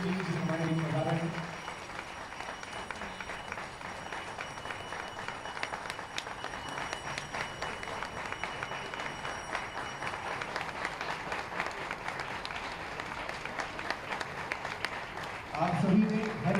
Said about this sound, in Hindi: जोरदार तालियां मिले